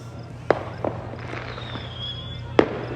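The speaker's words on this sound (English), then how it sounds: "there's so much fireworks everywhere" Fourth of July fireworks seen from a balcony: two sharp, loud bangs about two seconds apart over steady low background rumble, with a faint crackle and a thin whistling trail in between.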